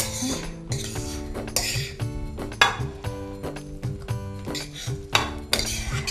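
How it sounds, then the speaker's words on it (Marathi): Tempered vegetables are stirred into a binding mixture in a bowl for mixed vegetable cutlets, giving irregular metallic clinks and scrapes of a spoon against the dish, close and clear with no talk. "आता याच्यामध्ये आपण भाज्या मिक्स करणार आहोत"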